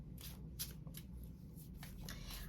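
A deck of Angel Answers oracle cards shuffled quickly by hand, giving a few soft, close riffling and slapping bursts over quiet room tone.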